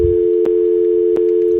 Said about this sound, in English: That's what we call a dial tone for the kids out there that don't know.